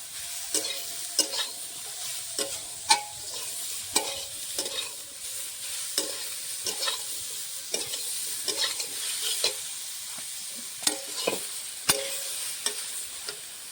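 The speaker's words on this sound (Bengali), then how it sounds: "হলুদ গুঁড়ো দিয়ে ভালো করে ভেজে নেবো আপনার ব্রকলিটা পোড়া পোড়া করে ভাজ দিলে একটু ভালো হয়" Broccoli fries with turmeric in a pan under a continuous soft sizzle, broken by repeated sharp scrapes and taps of a spatula stirring against the pan at an uneven pace, close and alone with no talking.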